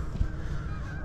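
Geese honk in a field of triticale cover crop, a brief, loud burst of calls over steady outdoor noise.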